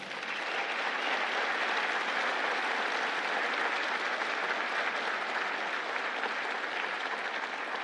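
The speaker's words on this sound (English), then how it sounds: "Join me in giving the first round of applause tonight to this year's Kemp Leadership Award winner, Senator Tim Scott." A large banquet audience gives sustained applause for a leadership award winner, an even, dense wash of clapping lasting several seconds at steady volume with no talk over it.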